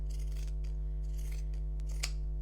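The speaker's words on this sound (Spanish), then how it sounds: "vamos a cortar el excedente. Le cortamos," Scissors snip through excess fabric while making a small DIY Easter bunny, a few crisp close cuts over a constant low electrical hum, with no speech.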